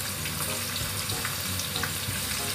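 Plain unseasoned tofu fries in hot oil in a pan over medium-high heat, a steady close sizzle and crackle with no talking.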